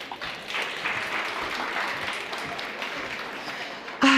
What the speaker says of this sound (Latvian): Lūdzu, sagaidām ar aplausiem.